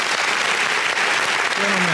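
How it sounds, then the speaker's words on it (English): Loud, dense clapping from a group at a radio studio interview fills the space continuously, bright and close, with a brief voice rising near the end. "Wow, those are some loud claps."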